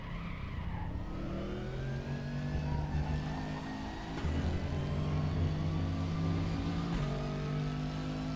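Race car engine in Raceroom racing game at Interlagos, a loud sustained motor drone shifting pitch through gear changes, with tire squeal mixed in.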